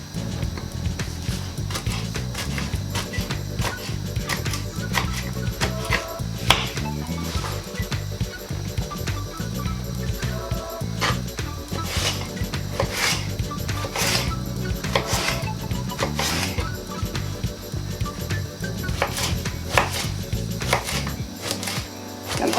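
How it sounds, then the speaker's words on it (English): Vegetables for a beef and aubergine stew chopped into small pieces on a chopping board, with quick, regular knife taps running throughout over continuous background music. "Just cut them in small pieces."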